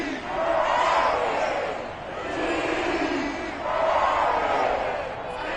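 A football video game stadium crowd roars and chants in loud swelling waves, rising, easing and surging again as a dense, steady wall of cheering.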